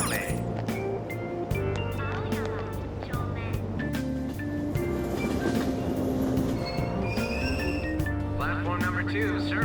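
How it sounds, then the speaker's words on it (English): A subway train in Persona 5 Royal pulls away from an Aoyama-Itchome platform, its motor hum and rumbling wheels filling the scene while station announcements and passing voices sound over it. "Train doors are now closing."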